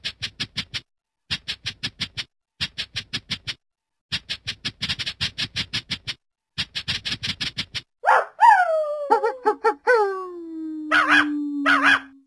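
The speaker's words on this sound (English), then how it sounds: "Three dogs." Dogs bark in quick rhythmic bursts of several yaps each, separated by short pauses, then break into rising howls and high yips, clear and close, with no talking.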